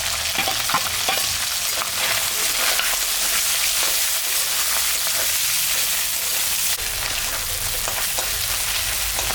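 Onion and green chilli fry in hot fish oil in a home kitchen, a loud steady sizzle with occasional stirring scrapes throughout and no talking.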